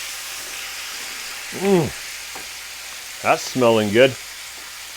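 Gyros meat seasoned with dill and salt sizzles and is stirred in a hot pan, a steady frying hiss running throughout while a voice speaks briefly over it.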